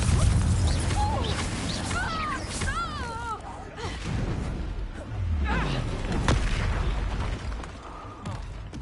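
Confringo blasting-spell explosions from Hogwarts Legacy, several booming bursts and crashes spread across a busy spell-casting fight, with a player's voice calling out spells over the blasts.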